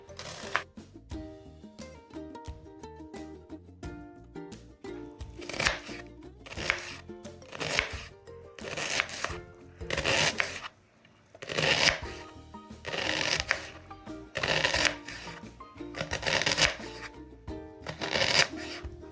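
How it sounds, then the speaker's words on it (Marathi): An onion is chopped fine with a knife for Mumbai street-style bhel puri, producing rapid bursts of close cutting taps in repeated runs separated by brief pauses, with some talking mixed in. "आपण हा कांदा एकदम बारीक चिरणार आहे"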